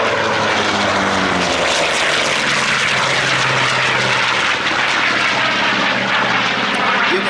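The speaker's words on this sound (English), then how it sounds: "From the left, another high-speed pass in the Bearcat." A Bearcat piston-engine fighter plane roars past at high speed, its loud engine drone filling the air with a steady, powerful rush.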